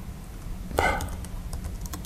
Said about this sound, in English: Here I'll type in Trump